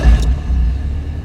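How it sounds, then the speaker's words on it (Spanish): A car engine cranks and catches in a short burst, settling into a low, steady rumble close by with no voices. "Voy a arrancar el carro"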